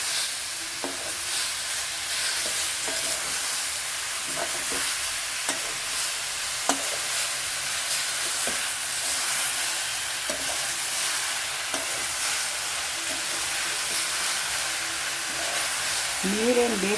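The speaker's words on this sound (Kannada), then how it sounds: "ಇವಾಗ ಬೇಯಿಸಿ ಇಟ್ಕೊಂಡಿರೋ ತೊಂಡೆಕಾಯಿನ ಹಾಕ್ತಾ ಇದ್ದೀನಿ." Boiled ivy gourd pieces tossed into a pan of hot oil and stirred on low heat, a steady hissing sizzle broken by repeated spatula scrapes and taps against the pan.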